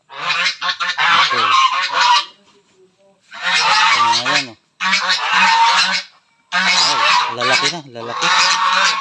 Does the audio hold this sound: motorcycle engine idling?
no